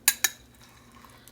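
A utensil clinks twice against a bowl while cream cheese is stirred by hand into a low-carb jello mixture, two sharp close knocks followed by faint, quiet scraping.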